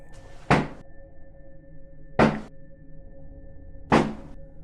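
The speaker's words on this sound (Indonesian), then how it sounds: "Ketukan lagi." Three evenly spaced, hollow knocks on a door, each a single sharp thud about two seconds apart, sounding close over a low, quiet background hum.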